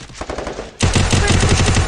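Rapid automatic gunfire from the Free Fire battle royale game, a burst of close, loud shots in quick rhythm that jumps sharply louder partway through and continues as sustained rattling fire.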